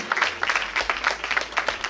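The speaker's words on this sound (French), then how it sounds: "on peut les applaudir" An audience claps during the Star Tour 2023 finale, a steady crackle of many hands heard fairly close for about two seconds, with no voices over it.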